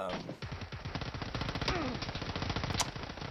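Full-auto fire from a weapon in the PUBG video game on PS4, a rapid close burst of repeated gunshots rattling steadily for about three seconds with no pause.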